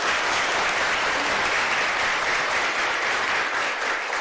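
An audience breaks into sustained applause at a Buddhist talk, a dense, even wash of many hands clapping that carries on steadily for several seconds without any voices over it.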